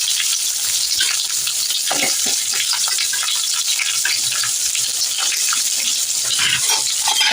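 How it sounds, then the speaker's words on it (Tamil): Chopped onions with curry leaves sautéing in hot oil for sambar, a steady close sizzle and crackle running throughout with occasional stirring scrapes, no voices. "பாருங்க, வெங்காயம் நல்லா வதங்குது."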